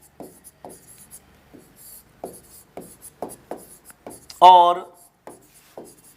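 Chalk or marker scratches across a classroom board in short, separate strokes, close and distinct, with someone briefly speaking partway through.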